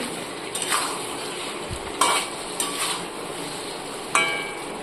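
Spice paste sizzles in oil for a fish curry, a steady close frying hiss broken by several sharp scrapes and knocks of a spoon against the pan.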